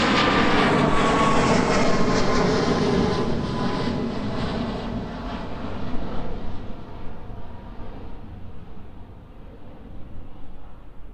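An airliner takes off at East Midlands Airport, its engines a loud broad roar that is strongest at the start and slowly fades and thins as the plane climbs away, with no voices.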